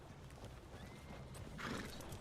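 A horse in the video game Red Dead Online gives a faint whinny over the soft clip-clop of hooves, quiet and somewhat distant against low background noise.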